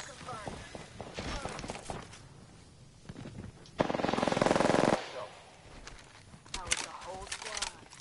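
Rapid automatic gunfire in the video game Apex Legends, bursts crackling through a firefight with a long sustained stretch of shots midway, heard with players talking over it.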